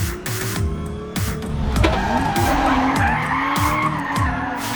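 Tires skid and squeal continuously as a self-driving car drifts under full automatic control of steering and brakes, engine revving underneath, loud and close throughout.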